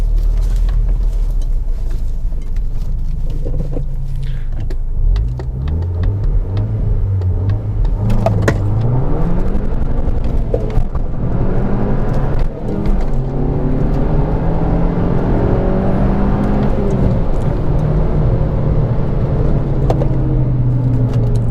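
A car launches hard off the line at a drag strip, its engine roaring loud and close with rising revs as the tyres spin, the rising pitch sweeping across the launch.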